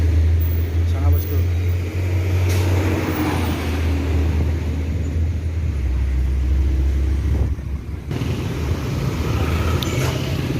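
Buses rumble past on a busy road at rush hour, on a Padang–Jakarta bus route, heavy low engine drone with wind buffeting the microphone, while someone talks over the traffic.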